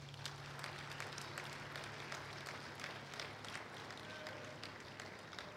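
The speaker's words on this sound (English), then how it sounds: "So give yourself a round of applause." An audience at a school Teacher of the Year event applauds with quiet, scattered clapping that sounds distant and continues at an even level for several seconds.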